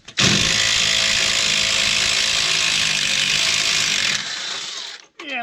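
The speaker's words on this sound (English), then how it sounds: "So we'll start by getting this bolt loosened up." A ratchet wrench clicks rapidly and steadily for about four seconds, loosening a bolt on an RV bumper during tow bar mount installation, then stops with a brief scrape at the end.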